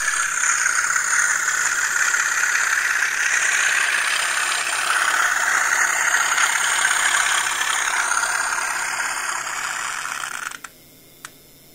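An N gauge model locomotive runs with DCC engine sound, giving a continuous droning, idling diesel-style hum with faint rattle that holds steady and then cuts off abruptly near the end.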